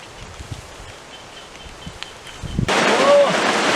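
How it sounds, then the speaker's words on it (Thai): A sudden burst of heavy rain and strong storm wind starts partway through, loud and broadband, after a quieter stretch of faint outdoor ambience. "ไปโอ้ฝนตกนะพี่น้องลมพัดแรง"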